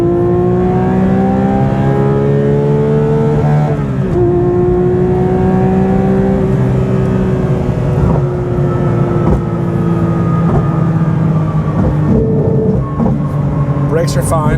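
Porsche GT3 engine on a race track, loud and close throughout, holding high revs with sharp rev-matched blips on downshifts and smooth climbing pitch between gear changes.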